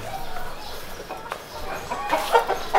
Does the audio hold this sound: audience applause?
no